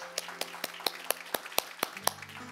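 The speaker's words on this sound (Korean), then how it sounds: "우리 하나님께 감사의 박수를 드리겠습니다" A steady series of about ten sharp claps at an even pace, quiet and somewhat distant, like a church congregation applauding in rhythm during a Sunday service in Seoul.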